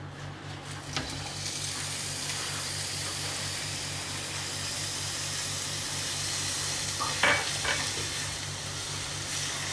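Onions frying in hot oil for a tomato gravy, a steady close hiss and crackle of sizzling that runs throughout, with a few brief scrapes or clinks near the start and later on.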